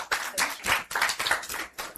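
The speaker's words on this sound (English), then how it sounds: "A round of applause for our TEF alumni." Brief burst of audience clapping at a Tony Elumelu Foundation International Women's Day event, uneven bursts of hand claps over about two seconds, close and moderately loud.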